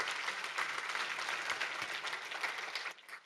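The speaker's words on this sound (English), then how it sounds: "Round of applause." Audience at a live market update event breaks into applause, a dense, even patter of many hands clapping for about three seconds before it cuts off.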